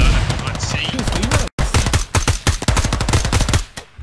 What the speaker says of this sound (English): Laying down some fire over there in the woods.